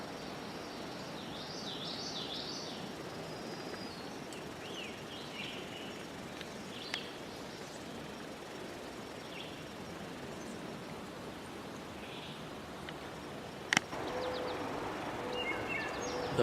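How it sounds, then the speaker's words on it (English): Melodious wood thrush song drifts through a quiet woodland sanctuary, with soft fluting phrases repeating at a moderate distance over a steady hiss of background ambience and a couple of brief clicks. "The melodious song of the wood thrush is heard throughout the sanctuary."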